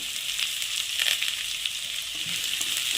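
Chopped spring onion sizzles in hot oil in a pan for fried rice, a steady bright crackling hiss with small pops, close and continuous.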